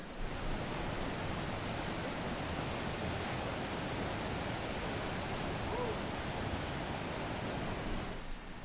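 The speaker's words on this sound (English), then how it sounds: "I'm gonna go down and see if I can get closer to the falls. See if I can get some more noise." A winter waterfall at High Falls Park gives a steady, dense roar of falling water that fills the whole stretch evenly and without breaks, loud and close.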